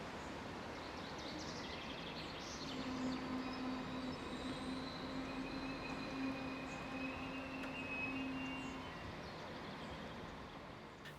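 A Class 5022 Desiro diesel multiple unit arriving at a station on a service from Bad Radkersburg to Graz, a rising rumble of wheels and engine with a sustained squeal, growing louder mid-clip then easing.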